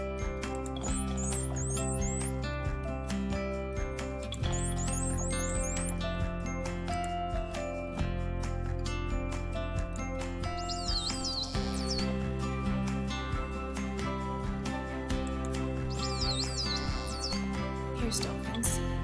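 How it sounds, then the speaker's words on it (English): High, sweeping whistles and chirps come in short bursts over a steady, loud background, repeating several times across the stretch. "What did you notice about all of those dolphin calls?"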